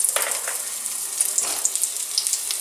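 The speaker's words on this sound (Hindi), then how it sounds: "तेलटा गरम हये गेछे, आमी दिए दिच्छि पेंयाजटा" Onion dropped into hot oil for a home-made malai chicken, giving a steady close-up sizzle and frying hiss throughout with faint crackles, no voices.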